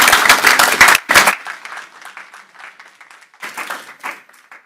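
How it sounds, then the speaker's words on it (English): A loud burst of clapping and applause from a group, fading quickly into scattered claps and a murmuring crowd. "Give her a round of applause."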